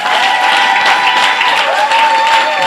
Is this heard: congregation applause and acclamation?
yes